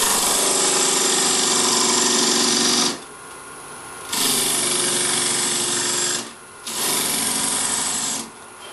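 A half-inch carbide insert rougher takes a full-width cut in a bowl spinning on a wood lathe at about 2,000 RPM. It makes a loud, steady buzzing, chattering scrape in three long bursts, with brief quiet gaps between the passes.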